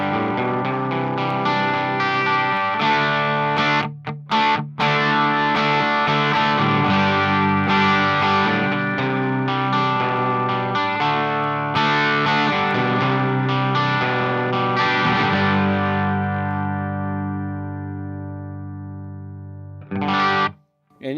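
An electric guitar plays through a Quilter Interblock 45 amp with the gain raised. Loud, sustained, lightly distorted chords ring out with rich overtones, a couple of brief gaps, and a fading tail before a final strum.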